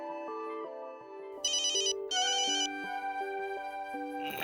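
A mobile phone plays a ringtone for an incoming call from mom: a steady, looping electronic melody of stepped notes, joined midway by two loud trilling ring bursts, with no one speaking.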